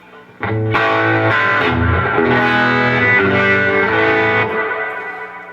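An electric guitar played through a Fender '65 Princeton Reverb amp with overdriven, distorted tone, chords ringing loud and sustained, then fading out.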